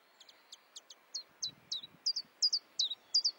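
Common chiffchaff calling in early spring, a series of about a dozen short, sharp two-note chirps repeated at a steady rhythm, growing louder and closer over a faint background.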